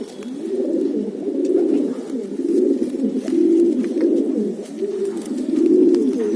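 A long-distance racing pigeon in a loft coos close by, producing soft, low, rolling calls repeated in a steady rhythm, one after another, with no other sounds.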